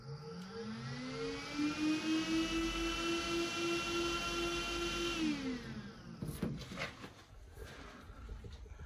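A solar-powered exhaust fan in a greenhouse runs with a steady whirring motor hum and tonal whine that holds, then winds down and stops partway through, leaving faint handling knocks afterward.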